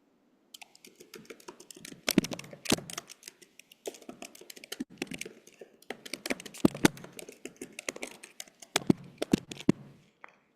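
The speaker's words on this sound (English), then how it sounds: "I hear typing. I do hear typing, yes." Someone types on a computer keyboard nearby in irregular bursts of quick clicks with brief pauses, continuing for about ten seconds, with faint speech occasionally underneath.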